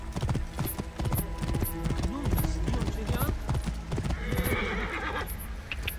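In Assassin's Creed Origins, a horse's hooves clip-clop in a quick, steady rhythm close by, with a whinny breaking in and someone talking over the gait.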